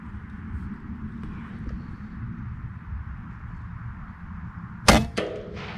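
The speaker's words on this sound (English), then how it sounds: "Okay, let's do a 3-shot." A Benjamin Gunnar .25 caliber airgun fires outdoors in cold weather at a 40-yard target, giving one sharp, loud crack with a short ringing tail over steady low wind rumble.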